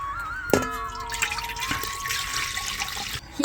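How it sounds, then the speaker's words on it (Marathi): Water poured into a small metal pot, a close, bright splashing stream with rising ringing tones as the vessel fills, ending abruptly after about three seconds. "तांब्यात पाणी टाकीची."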